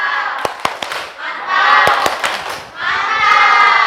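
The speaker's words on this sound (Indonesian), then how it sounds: "Yuk kita tepuk mantap dulu, yuk semuanya." A class of students does a rhythmic 'tepuk mantap' clap in a classroom lesson: a few sharp claps ring out, then bursts of loud group shouting and cheering.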